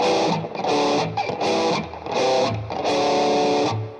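A distorted electric guitar plays a rhythmic chord riff, repeated strums with gritty sustain and short gaps between phrases.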